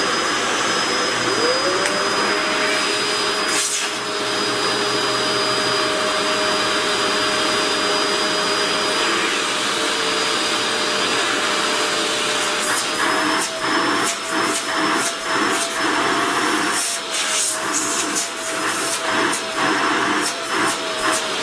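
Two Shark vacuum cleaners run loudly through a suction test, giving a steady whining roar throughout, with knocks and shifts in pitch as the nozzles are handled in the second half.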